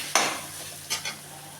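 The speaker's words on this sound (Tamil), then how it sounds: "கேரட்டு கொஞ்சம் நல்லா வதங்கட்டும்." Carrots with ginger sautéing in a pan, one sharp stirring scrape near the start and two softer scrapes later over a faint steady sizzle, close and fairly quiet with no talk.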